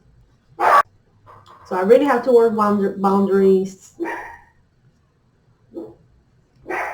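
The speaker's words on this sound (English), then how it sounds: "That's my dog in the background." A dog barks in the background of a home in a few short, sharp bursts, interrupting and overlapping a person talking close by.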